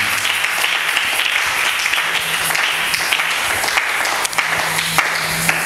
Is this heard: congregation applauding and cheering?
yes